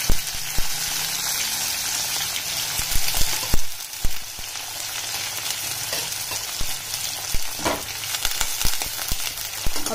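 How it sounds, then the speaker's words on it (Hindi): Onions frying in a pan with cumin and mustard seeds, a steady loud sizzle with scattered sharp pops and crackles, close up and without voices. "प्याज को हमने जो है ब्राउन होने तक जो है भूनना है"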